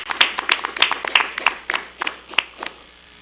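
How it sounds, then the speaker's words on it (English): Sparse applause at a school Board of Education meeting for the board members, a small group's individual claps ringing out unevenly and thinning toward the end, close and moderately loud in a quiet room. "I think we should give our school board members here today a round of applause."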